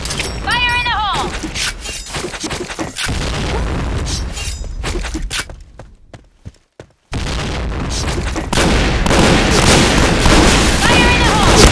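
Grenade blasts in a first-person shooter game boom out in loud bursts among gunfire and clattering action, with a short near-silent gap midway; game voices call out over the blasts.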